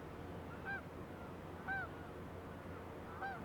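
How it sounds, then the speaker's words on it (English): Seagulls at a coal-loading dock give three spaced, nasal calls at a moderate distance over a constant low industrial rumble. "enjoy the sound of the seagulls"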